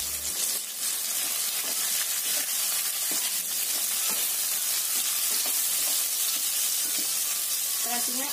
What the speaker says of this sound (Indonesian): Terus terasinya ini juga kita goreng ya,